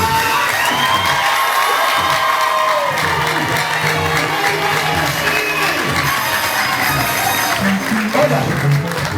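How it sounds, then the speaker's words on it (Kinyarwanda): A church congregation claps and cheers loudly for God, a dense sustained crowd roar with whoops and shouts, while a voice speaks over it. "Akomera Imana amashyi"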